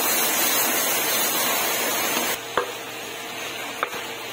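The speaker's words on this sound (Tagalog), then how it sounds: "First, on a high heat pan, saute pork," Pork sautéing in a high-heat pan, a steady loud sizzle that suddenly drops in level, followed by a couple of small clinks from the pan.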